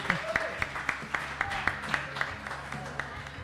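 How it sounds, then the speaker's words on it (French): Audience applause for participants at a 24-hour dek hockey draft event, a steady patter of claps with scattered louder hits over background murmur, fairly close and moderate in level. "On les applaudit!"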